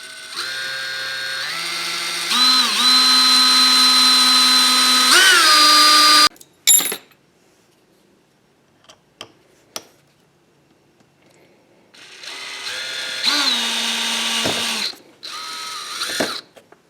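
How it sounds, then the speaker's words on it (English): A cordless-style power drill spins a 1/16 inch bit into a small clamped metal fishing spoon blank, its motor whine rising and falling in two long, close, loud bursts separated by quiet handling clicks. "I'm using a 1/16 inch drill bit"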